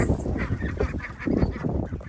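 A flock of pet ducks and geese honks and quacks in a dense, overlapping racket. The calls are close and loud and keep going steadily through the whole stretch with no talking.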